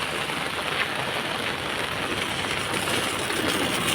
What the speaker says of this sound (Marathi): आज एवढा पाऊस चालू झाला आहे